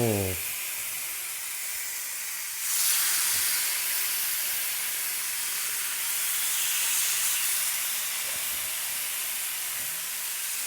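Marinated lamb chops hit a hot, smoking pan and sear with a loud, steady hiss that swells sharply and keeps sizzling close and alone, with faint clinks now and then.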